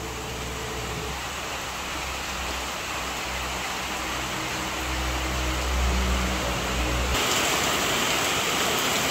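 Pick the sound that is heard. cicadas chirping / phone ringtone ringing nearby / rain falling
rain falling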